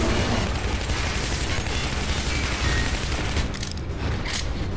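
Dense, continuous gunfire and explosions from the video game Shadow Warrior, a loud unbroken barrage of rapid shots and booms that barely lets up, then thins slightly near the end.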